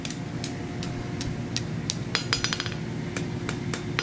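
A hammer strikes a hot iron snub-end scroll on an anvil in a forge, about a dozen sharp ringing taps that grow quicker and closer together toward the end, over a steady low hum.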